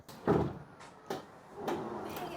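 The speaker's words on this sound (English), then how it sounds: "that hood latch does not sound good though" Closing thump and latch clunk from the front hood of a Tesla Model 3 during a wrap job, several knocking hits spread over a couple of seconds, close and moderately loud.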